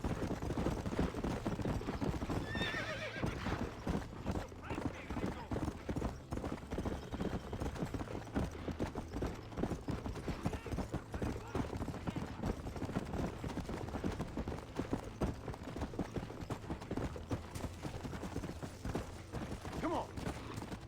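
Horse hooves gallop in the Red Dead Redemption video game, a fast, continuous clip-clop close up with brief voices over it.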